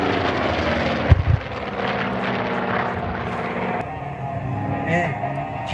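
A Skyraider single-engine propeller warplane drones overhead at the Melun Villaroche airshow, a steady engine rumble under continuous announcer commentary.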